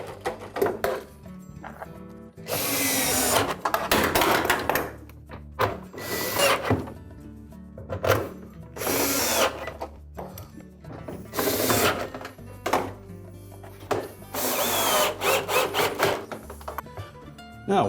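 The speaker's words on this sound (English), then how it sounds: "we'll just continue to install those bolts around the perimeter of those tubs" Power tool driving bolts one after another around the perimeter of an LG washer's outer tub during a spider assembly replacement, giving repeated loud bursts of whirring and ratcheting separated by short pauses.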